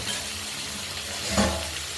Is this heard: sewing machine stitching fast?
no